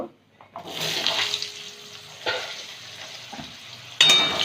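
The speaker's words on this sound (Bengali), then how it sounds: "আলুটা একটু ভেজে নেব" Potatoes hitting hot oil with a five-spice and dried red chilli tempering, a sharp sizzle surge when added, then steady frying hiss with a few stirring scrapes and a second loud burst near the end.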